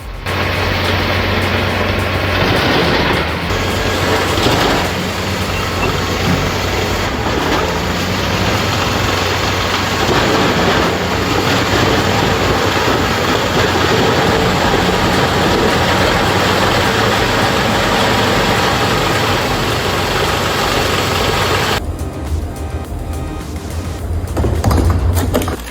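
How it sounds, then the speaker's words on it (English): Heavy industrial wood shredder crushing a 20-inch log, a loud continuous low engine roar with grinding and crackling under it, steady throughout before a brief shift near the end. "Judging by the feed rate and torque, that shredder's no joke."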